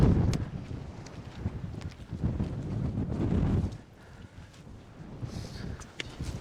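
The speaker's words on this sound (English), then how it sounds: "as I said, the wind's picking up" Wind gusting outdoors on an open hill near a ski hut, buffeting the microphone in loud rumbling waves that ease midway and then build again.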